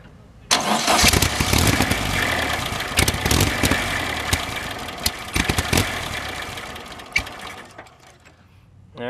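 A dune buggy engine cranks abruptly and starts, then runs rough and loud close by, surging unevenly with sputters and pops before it fades near the end.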